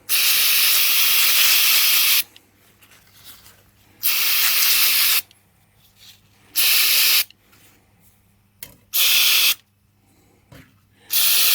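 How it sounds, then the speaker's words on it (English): A can of Forge R510 brake cleaner sprays in several loud, close bursts of high-pressure hiss, the first long and the later ones shorter, with quiet gaps of handling between them. "Another Forge product, bloody good, R510 brake cleaner, awesome stuff."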